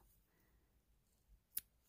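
One sharp scissor snip cuts knitting yarn near the end of a quiet passage, close and crisp, preceded by faint handling noise of the knitted piece.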